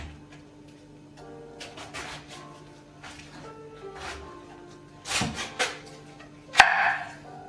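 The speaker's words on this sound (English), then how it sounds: "And so I'm going to start chopping." Scattered knife chops through purple cabbage on a cutting board, a few sharp strikes over a quiet, humming background.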